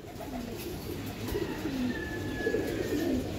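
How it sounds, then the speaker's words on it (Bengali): Racing Giribaz pigeons coo in repeated soft, throaty phrases close by, over a steady background hum with no talking. "এই আরেক জোড়া কবুতর"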